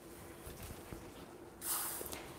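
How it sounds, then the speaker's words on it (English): WD-40 silicone spray released from an aerosol can into a paint-pouring cup, a single close hiss of about a second that starts abruptly and fades, over a faint background hum. "I'm going to spray my cup with the WD-40 silicone spray."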